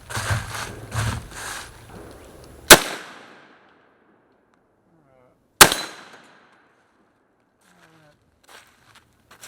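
.50 Beowulf rifle with a 16-inch barrel firing over a chronograph: two sharp, loud single shots several seconds apart, each with a decaying echo, after some earlier muffled knocking and handling noise.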